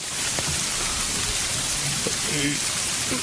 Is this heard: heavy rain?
yes